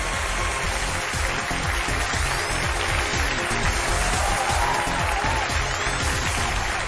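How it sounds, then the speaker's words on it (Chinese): Studio audience applause greets a married couple walking onto a Chinese relationship-dispute TV show, a continuous even patter of many hands, moderately loud and sustained, with music playing underneath. "掌声有请"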